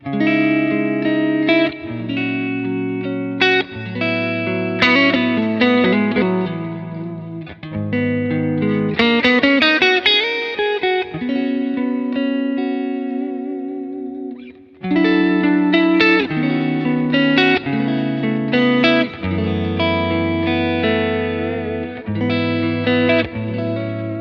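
Clean electric guitar through a Line 6 POD Go Wireless plays sustained chords and melodic lines washed in reverb and echoing delay, lush and ambient, with one brief pause midway.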